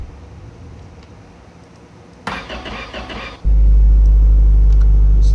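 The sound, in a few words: car engine running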